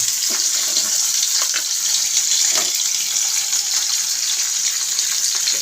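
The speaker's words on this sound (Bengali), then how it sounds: "এবার এর মধ্যে আলুগুলো প্রথমে ভেজে নেব।" Potatoes with salt and turmeric fry in oil for mochar ghonto, a banana-flower dish. A loud, steady, close hiss with faint intermittent stirring ticks carries on without voices.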